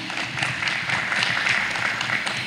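Audience at an international coaches' forum applauding, a steady crackling patter of many hands clapping in a conference room, moderately loud and continuous without talk.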